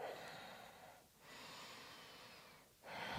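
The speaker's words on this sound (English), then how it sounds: "Inhale and then exhale." Slow, soft breathing in and out during a butterfly pose in gentle hatha yoga, two long airy breaths with brief pauses between them, faint and close; no talking.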